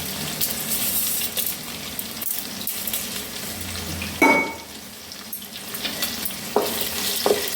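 Whole spices, namely cinnamon, mace, cardamom, sesame seeds and fenugreek, dry-fry in a pan with a steady crackling sizzle and occasional scraping stirs, loud and near, with no speech.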